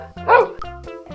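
Dogs bark in a few quick, close, loud yaps with a short whimpering edge, the barks coming in a tight burst.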